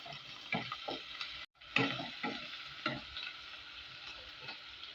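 Whole garam masala and cumin seeds fry in hot oil with a soft, close sizzle and crackle, punctuated by short bursts of stirring and spice-pops, with a brief gap of near silence partway through.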